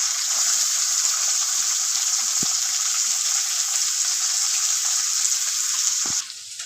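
Tomato and onion frying in hot oil for Marathi-style leftover fodnicha rice, a steady loud sizzle running throughout with a couple of brief utensil knocks and the frying easing slightly at the very end.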